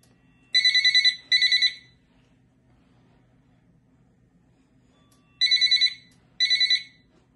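Two pairs of shrill, buzzy electronic phone ring bursts played through piezo sticker speakers, each a rapid warbling trill, separated by a long quiet gap, sounding tinny and harsh.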